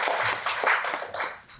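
Audience clapping at a tech meetup talk, a short, close burst of dense applause with a few distinct hand claps standing out.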